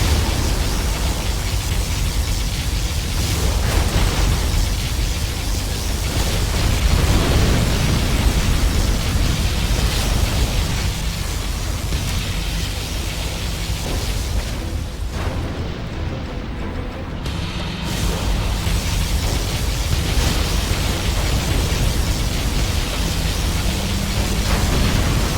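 Continuous heavy blasting and rumbling roar from a particle cannon strike in the game Command & Conquer Generals Zero Hour, loud and sustained with repeated bursts, a brief lull in the middle before the roar resumes.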